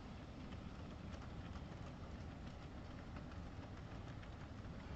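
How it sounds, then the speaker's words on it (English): Faint, steady rumble of small model trains rolling along tracks on a loft layout with light repetitive clicking, continuous and distant, no voices. "all I hear now is just the trains going along the tracks"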